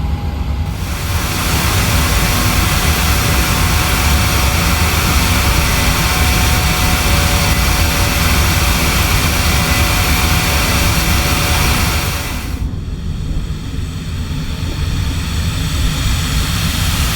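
Jet engines of a United airliner drone loud and steady through a climb, a dense continuous roar with faint high whine that holds for about twelve seconds and then drops to a quieter cabin hum.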